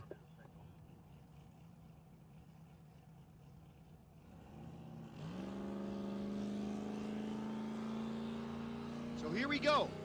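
A Rowdy Radial drag racing car at Tulsa Raceway Park idles, then launches and roars down the eighth-mile strip, its engine note rising loud and steady, with announcer commentary running over it.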